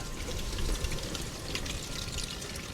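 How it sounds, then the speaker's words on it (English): Engine oil draining out of a 2024 Can-Am RT Limited and splattering unevenly into a pan outdoors, a steady broadband liquid patter with light wind noise and no speech. "it doesn't drain out real smooth like you would expect it to. And like I said, it will splatter."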